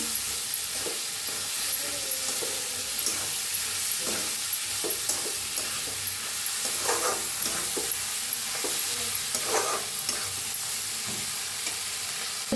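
Roasted ridge gourd is stirred with chilli and spice masala in a hot pan, a steady sizzle running under repeated scraping strokes of the spoon, close and even, with no talking.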